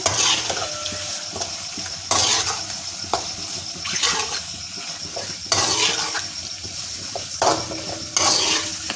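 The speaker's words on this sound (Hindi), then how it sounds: "लहसुन प्याज में ये फ्राई हो रहे हैं" Kidneys fry with onion and garlic in a pan, sizzling while a spoon stirs them in repeated scraping bursts, close and steady throughout.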